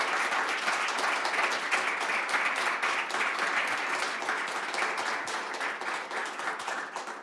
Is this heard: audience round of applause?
yes